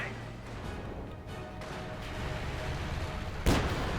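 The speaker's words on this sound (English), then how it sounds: "And mine went off here on the half-track." A landmine goes off under a half-track in the World War II strategy game Company of Heroes 2. A sharp, loud single blast cuts in near the end over steady rumbling battle noise and faint commentary.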